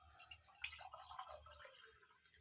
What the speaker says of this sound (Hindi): 2 कप पानी के मैं डाल रही हूँ।